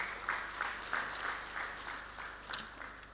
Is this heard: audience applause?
yes